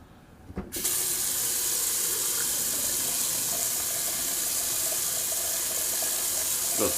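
A tap turns on and cold water runs in a steady, even rush into a sink, continuing without a break.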